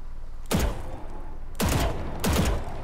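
Three loud single shots ring out at a video game deathmatch warm-up map, spaced roughly a second apart, each a sharp crack with a short decaying tail, and no talking over them.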